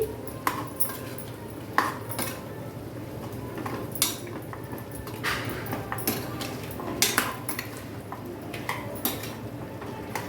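A spoon stirs ground coriander-and-cumin masala into a pot of mutton nihari, giving repeated metallic scrapes and clinks against the pot over steady background noise, close and moderately loud with no talking.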